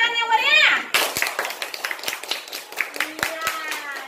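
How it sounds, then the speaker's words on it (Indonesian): A class of children claps for classmates' series circuit project, a burst of scattered, uneven clapping mixed with children's chatter, following a moment of voices at the start. "Kasih tepuk tangan yang meriah."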